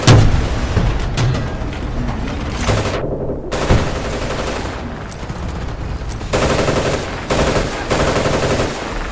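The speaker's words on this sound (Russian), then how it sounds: "Стреляй, стреляй, не останавливайся." Rapid automatic gunfire and bursts from the video game Battlefield 2, dense and loud with sharp repeated shots, a few heavier booms and brief pauses between volleys.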